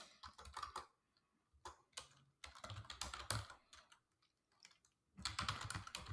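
Bursts of quick computer keyboard typing as a pip install command is entered, clustered keystrokes separated by short pauses, close and clear with no talking.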